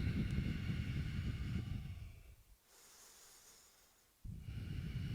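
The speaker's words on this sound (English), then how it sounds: "Lots of good breathing." Heavy breathing during a yoga class in boat pose, loud rushing breaths near the microphone that break off into a quiet pause before the next breath starts again.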